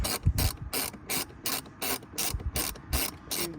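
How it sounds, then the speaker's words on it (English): A ratchet wrench tightens car bolts in quick, regular clicking strokes, about eight rapid bursts close by and fairly clear with no talking. "Done it with all these bolts, tightening them up."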